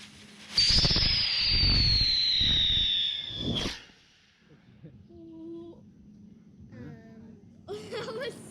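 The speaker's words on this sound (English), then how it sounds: "So one of our absolute favorite novelty fireworks are these little parachute tubes." Small novelty parachute tube firework launching outdoors: a loud hissing, whistling rise lasting about three seconds with crackling, ending in a pop, followed by quieter background and faint voices.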